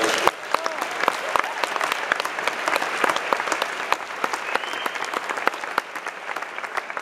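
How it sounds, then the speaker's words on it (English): A room full of people at a Gasland fracking discussion at the Landmark Theatre in Syracuse applauds Lois, sustained close, dense clapping that holds steady for about seven seconds. "let's have a round of applause for Lois"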